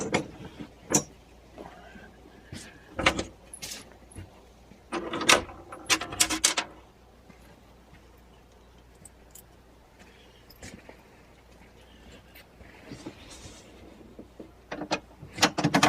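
Metal bolts loosely fitted into a Pengor Penguin steering assembly, sparse sharp clinks and short rattling handling noises, some in quick clusters, separated by quiet stretches.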